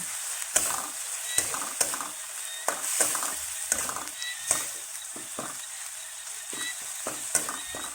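Pounded spice paste for a frog stir-fry hisses and sizzles in hot oil in a pan, with a steady loud crackle broken by repeated scraping and clanking strokes as it is stirred up and down.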